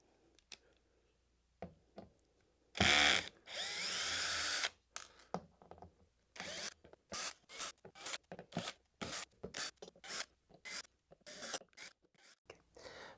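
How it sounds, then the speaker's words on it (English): An electric screwdriver backs out the perimeter screws of a HSU Research D15-Chimera subwoofer plate amp, with two quiet whirring bursts followed by a long run of sharp clicks and ticks as the screws come loose. "So I'm going to go ahead and remove the screws for you."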